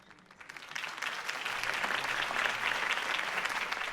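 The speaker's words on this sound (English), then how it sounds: "could have heard that applause" A crowd applauds a campaign speech in the Batman Telltale video game, steady dense clapping that swells up from quiet and then holds loud and continuous.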